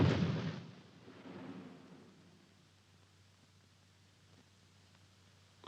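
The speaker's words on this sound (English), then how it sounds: "That explosion was one of our mines." An anti-personnel mine explodes in a 1969 war film set at El Alamein: a single dull blast opens, then rolls away into a fading rumble and near silence.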